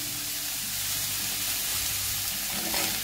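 Onions frying in a pan for a malai sabji, giving a steady close sizzle throughout with a brief louder swell near the end, no talking.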